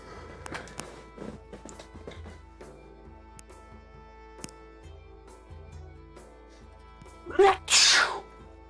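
A single sharp sneeze bursts out near the end during a tabletop role-playing game session, loud and close after quiet ticks, taps and soft movement.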